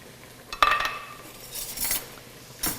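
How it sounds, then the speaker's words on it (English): A knife stirs shredded beef enchilada filling with chopped green chilies in a pot, giving a quick cluster of metallic clinks and scrapes, followed by a couple of softer clanks. "Let me give it a little stir with my knife, get it mixed up a little bit"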